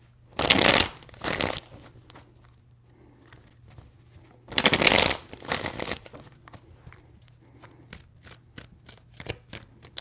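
Tarot cards riffle-shuffled in two loud bursts, followed by a run of quick, crisp card snaps and taps near at hand, with no talk.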